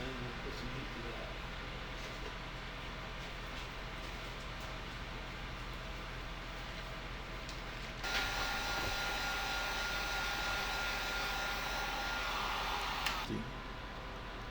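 A heat gun blows hot air onto a handmade pen for about five seconds, a steady rushing hiss rising over a quiet room and then stopping.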